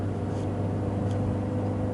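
A manual-transmission car engine pulls uphill in city traffic after a downshift to fourth, a steady low droning hum with a constant engine tone and faint road noise throughout.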